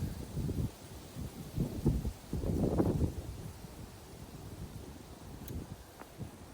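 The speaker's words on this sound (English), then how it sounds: "we got a big gust of wind coming, hold on" A strong gust of wind blows across an outdoor microphone, rising into a loud rumbling buffet in the first three seconds and then easing to a steadier, softer rush.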